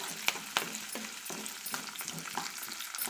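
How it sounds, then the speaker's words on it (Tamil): Onions sizzling in hot oil for a roasted-gram chutney, with a steady frying hiss broken by the repeated scrape and clack of a spoon stirring the pan. "இப்போ இதை நல்லா வதக்கிக்கலாம்"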